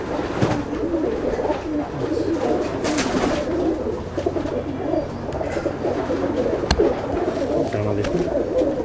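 A loft of Chennai breed pigeons in Andul, Howrah, fills the air with continuous overlapping coos, a thick close murmur broken by a few sharp clicks and knocks, with a voice speaking now and then.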